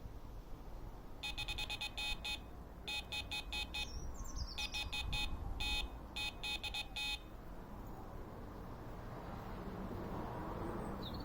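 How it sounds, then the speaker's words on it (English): Delkim carp bite alarm on a fishing rod sounding in repeated bursts of rapid high electronic beeps, three long runs over a steady outdoor background with no talk. "Almost instantly that alarm went off when I picked up the bait"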